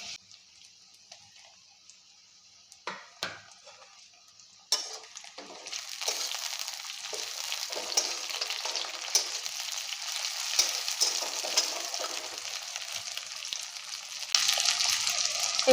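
Onions sizzling in a frying pan, with tomato tossed in for a shrimp curry: a few clinks early on, then a loud, steady crackling hiss that swells partway through and continues to the end.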